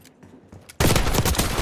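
Gunfire in a video game bursts in suddenly after a quiet moment, a loud sustained barrage of rapid shots close by.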